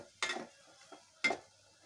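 Garlic paste is stirred in a pan of frying masala: two distinct scraping stir strokes, each with a brief burst of sizzle, separated by quiet moments.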